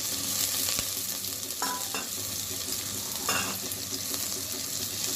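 Dried shrimp and onions fry in a pan with a steady, soft sizzle, broken by a few scraping stirs of a spatula.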